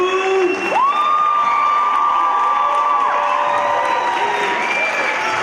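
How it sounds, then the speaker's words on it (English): A school theater audience cheers, whoops and claps for the stage crew at a curtain call, a dense, steady roar of crowd noise with rising shouted whoops over the clapping. "And let's have another round of applause for our crew."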